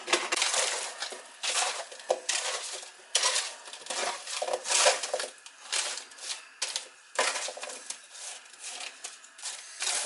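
Baked fries being flipped and shuffled on a metal tray, a busy run of close scraping clatters and light taps that comes in irregular bursts.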